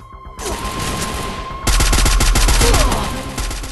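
Rapid bursts of gunfire from the Free Fire video game crackle close and loud, a short spray followed by a longer, denser volley of repeated shots.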